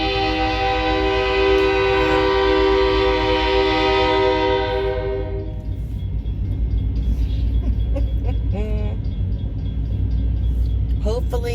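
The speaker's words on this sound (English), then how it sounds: "Hopefully it's a short train, because it's moving mighty slow." A slow train rolls through a railroad crossing, its horn blaring in a long, steady blast for several seconds before giving way to the heavy, continuous rumble of passing cars, with a person talking over it.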